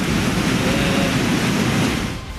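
Floodwater of the swollen Yamuna river rushing down from the mountains near Yamunotri during heavy rain, a loud, steady broadband roar with no breaks, fading slightly at the end.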